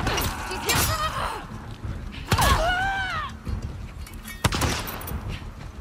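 Hunting pistol shots ring out in The Last of Us Part 2, several sharp, loud reports spaced a second or two apart amid combat noise, with a voice shouting briefly in between.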